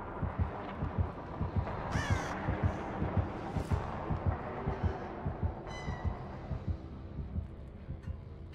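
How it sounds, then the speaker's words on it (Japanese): Crows caw repeatedly in the Dead by Daylight video game during a Hillbilly match, with short harsh calls scattered over a dense, thumping heartbeat-like pulse and a steady ambient bed. "カラスまみれだじゃん、もう。"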